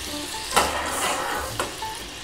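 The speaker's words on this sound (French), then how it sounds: "j'ai 60 g de beurre que je vais laisser fondre" Unsalted butter melts in a pan with a soft, even sizzle that fills the moment, broken by a couple of faint utensil taps. Nobody talks.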